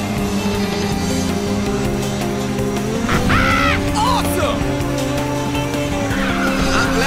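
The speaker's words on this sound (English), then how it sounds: "Someone fired off some nitrous." Ridge Racer 6 race cars roar with tires squealing and skidding as a nitrous boost fires, a loud continuous engine drone with a sharp swell midway, backed by game music and an announcer's voice.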